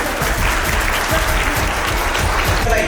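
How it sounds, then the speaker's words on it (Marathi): An audience at the Math Marathon 2026 national finals award ceremony in Nashik applauds a guest with loud, dense clapping that lasts the whole moment. "त्यांचे टाळ्या जोरात स्वागत करूया"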